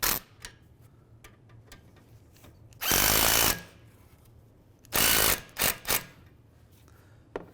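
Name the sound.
tightening nuts on Hyundai Sonata AC lines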